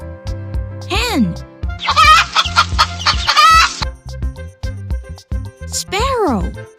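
A hen clucks and cackles in a dense, rapid burst in the middle, flanked by single rising-falling calls, all heard close over a rhythmic musical backing.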